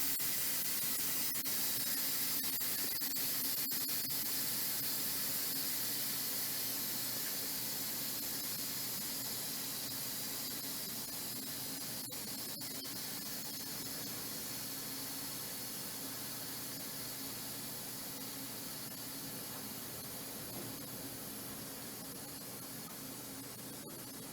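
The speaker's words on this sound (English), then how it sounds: "we're just about done releasing the pressure" An Instant Pot releasing pressure through its valve, a steady loud hiss of venting steam that slowly tapers in strength over the long stretch, close by with no talk.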